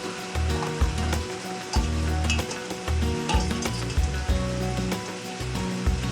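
A steady, dense bubbling and sizzling roar of water at a hard boil in a pot for steaming crabs, continuous and close, with low rumbling pulses underneath.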